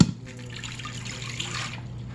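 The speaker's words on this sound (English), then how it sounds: "The next thing I need to add is water" Water is poured into a pressure cooker holding chicken for a chicken corn soup: a steady close splashing stream runs for under two seconds, then thins out with no talk.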